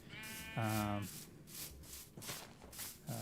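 Sheep in a Minecraft-style crafting game bleat in short repeated calls, two close and clear, over a soft scraping background with quiet talk.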